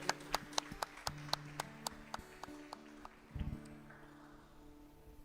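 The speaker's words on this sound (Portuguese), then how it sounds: "tome o seu assento aplaudindo" A church congregation claps in a quiet, fairly regular rhythm of distinct hand claps that thin out and fade toward the end.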